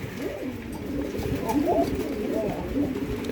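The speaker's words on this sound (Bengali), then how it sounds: "সে কিন্তু খুব ভালো একটা মাদি কবুতর এই শার্টিন" A female satinette pigeon coos near the listener in a few low, rolling calls over a steady background murmur.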